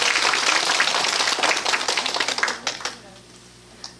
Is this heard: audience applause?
yes